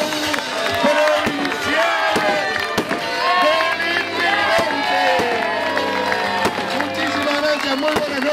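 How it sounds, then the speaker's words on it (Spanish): Fireworks at an evening civic festival celebrating immigrants, with a large outdoor crowd cheering and shouting throughout; dense overlapping bangs and whistles keep the whole stretch loud and busy. "Ya disfrutaron estos fuegos artificiales"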